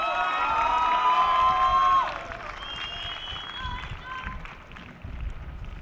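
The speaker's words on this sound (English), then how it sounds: "give him a round of applause and welcome him" Audience applause and cheering welcoming a speaker at a talk by a former gang member turned Army Ranger, a dense wash of clapping and cheers, loud at first and then tapering off as a voice begins.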